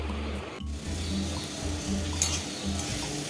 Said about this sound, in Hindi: तो चलिए इसको काट के फटाफट फ्राई करें।